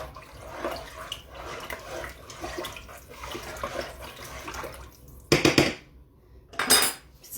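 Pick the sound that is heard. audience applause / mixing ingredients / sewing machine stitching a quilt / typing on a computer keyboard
mixing ingredients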